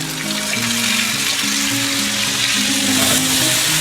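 Potato and eggplant curry with spice mix frying over low heat, a loud steady sizzle and bubbling hiss with a faint tonal hum running underneath.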